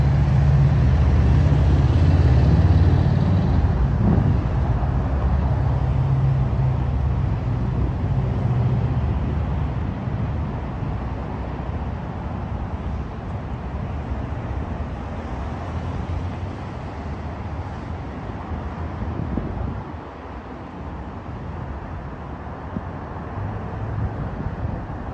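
Traffic noise rumbles under a busy high-volume bridge, a broad, steady roar of passing vehicles with a louder swell early on, fading slightly, plus wind buffeting.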